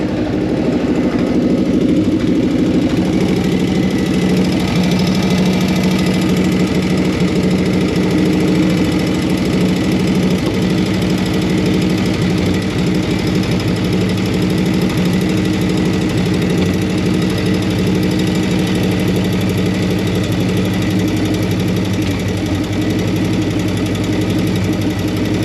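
A 1940 flathead engine idles steadily in neutral, a loud, continuous low rumble with an even pulsing beat throughout and no voices.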